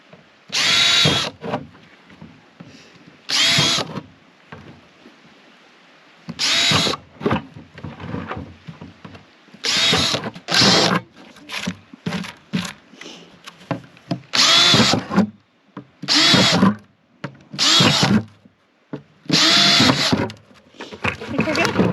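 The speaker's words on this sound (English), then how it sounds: "I just need to drill holes in the bottom so the water leaks out" Repeated bursts of a power drill whining at high speed as it drills holes in the bottom of a plastic bucket, each lasting a second or two with short pauses between, close by, with brief voices in the gaps.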